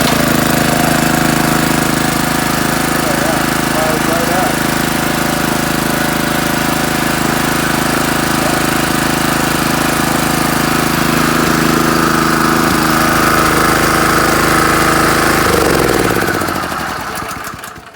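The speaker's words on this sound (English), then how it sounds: "I hope it cranks just with one pull." A Honda GX160 5.5 engine on a Coleman Powermate 2500 pressure washer runs loud and steady with a close, rough mechanical drone, then winds down and cuts off at the end.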